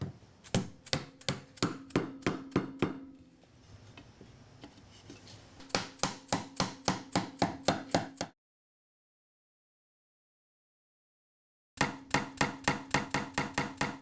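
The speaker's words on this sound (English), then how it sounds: "I'm going to test assemble the unit by first tapping the dowels into one bracket" Wooden dowels tapped into a 3D-printed plastic shelf bracket: a brisk series of sharp, close knocks in quick rhythm, pausing briefly and falling silent for a few seconds before another rapid run of taps.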